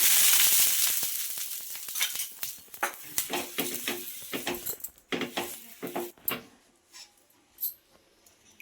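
Oats dosa batter on a hot pan gives a bright sizzle that fades quickly, followed by scattered scraping and clinking taps of a utensil, close and moderately loud.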